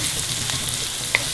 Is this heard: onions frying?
yes